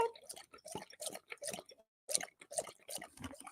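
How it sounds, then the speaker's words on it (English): A dog lapping water, a quick series of wet slurps and drips close by, pausing briefly partway through and then resuming. "Do you guys want to hear a dog drinking?"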